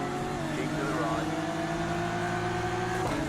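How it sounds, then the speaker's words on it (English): Acura GT3 race car in the iRacing sim, a steady humming engine note with shifting pitch as it revs, loud and continuous with faint other cars in the background and no voices. "that does not sound like a Ford. That's an Acura."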